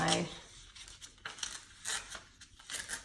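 Sheets of scrapbook paper torn by hand into strips, a series of short, close ripping bursts at uneven intervals under a quiet room tone.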